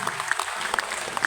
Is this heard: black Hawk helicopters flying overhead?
no